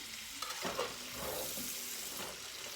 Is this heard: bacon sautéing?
yes